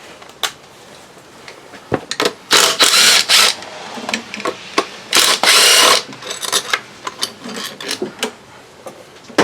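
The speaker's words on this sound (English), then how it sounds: "Just take these two bolts loose rather than screwing around that plastic bracket that's going to break off on me." Bolts being loosened on the fuel rail bracket of a 1999 Pontiac Grand Am 2.4L give close, loud bursts of ratcheting clicks with short pauses and metallic taps in between, with no voices.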